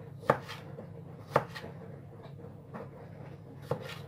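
Cherry tomatoes chopped finely with a knife on a board, several crisp taps of the blade in an uneven rhythm, three of them louder, heard up close with no voices.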